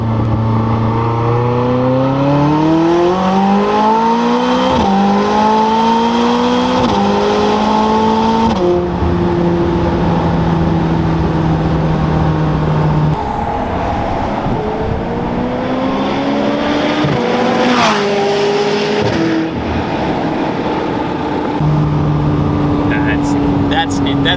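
A loud 2020 McLaren 600LT Spider engine revs up repeatedly in second gear, pitch climbing and dropping with each pull, with rushing wind noise throughout.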